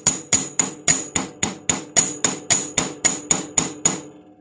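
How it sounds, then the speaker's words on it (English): A chasing hammer flattens the tip of a 2¼-inch jewelry wire on a metal bench block, striking about fourteen bright, ringing metallic blows at an even, brisk rhythm, each one loud and close with a short decaying ring. "I'm going to take my bench block and my chasing hammer, and I've already measured the wire, but it's 2¼ inches, and I'm going to just flatten the tip here a little bit."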